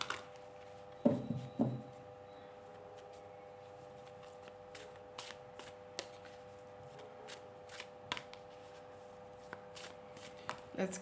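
Playing cards are shuffled close up in a quiet room, giving a few soft riffling bursts early and then scattered light flicks and taps against a faint steady hum.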